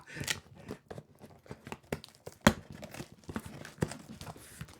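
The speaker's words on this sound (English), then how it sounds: "Breaking open the scissors, guys. This is a tough one." Crinkly plastic packaging around a pair of scissors is torn and crumpled by hand in quick irregular bursts, close and fairly quiet, with one sharper rip midway.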